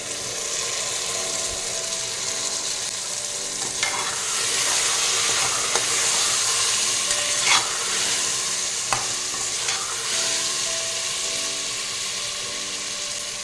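Marinated raw jackfruit and potato frying and being stirred with browned onion in a pan, a steady close sizzle with scraping stir strokes throughout.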